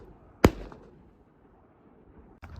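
Springfield 87A .22 long rifle firing semi-automatic at a range: one sharp, loud crack followed by a brief tail, then a second fainter snap near the end.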